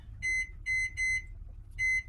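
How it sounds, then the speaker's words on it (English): A kitchen timer being set for nine minutes gives four short, sharp electronic beeps in an uneven rhythm, close and clear over a low background hum. "let me set the timer for 9 minutes"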